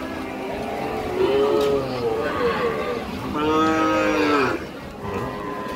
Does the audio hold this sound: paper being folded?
no